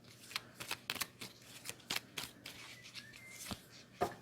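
Tarot cards are shuffled by hand in a quiet room, producing a run of faint, crisp slaps and riffling clicks in an uneven rhythm, with no talking.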